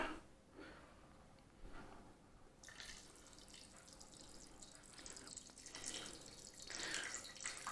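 Apple cider vinegar poured over hot peppers packed in a one-litre jar for pickling, a faint liquid splash and trickle that grows fuller in the second half, heard alone and close.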